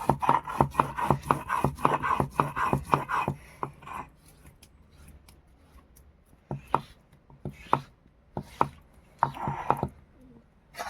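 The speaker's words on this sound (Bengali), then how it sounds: "আমি এটা বেটে নিই, মিহি করে বেটে নেবো শিলে।" Cumin, peppercorns, coriander, ginger and green chili ground by hand on a flat grinding stone, with a rapid run of rhythmic scraping strokes that fades after a few seconds into sparser, scattered rubbing and knocks.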